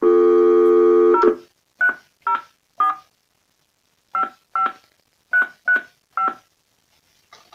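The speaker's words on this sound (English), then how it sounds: "Wait for dial tone, and then dial the OSTD code and number" A steady dial tone cuts off, then a series of short DTMF keypad beeps from a WB400 telephone follows in irregular clusters, clear and close with brief silences between.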